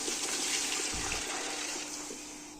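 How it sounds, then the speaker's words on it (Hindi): Lassi is poured into a pot of cooked masala for Lahori kadhi pakora, giving a steady liquid gush with a brief low splash partway through. "अब मैं इसमें डालूँगी लस्सी।"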